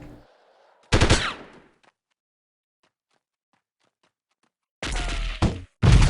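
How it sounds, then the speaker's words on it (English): Burst-fire gunfire in the Delta Force video game Snow Fox mission at a snowy Novaya Zemlya base, short loud bursts near the start and several more at the end, with silence in between. "We may as well switch to our burst fire mode too, since we have now entered the base."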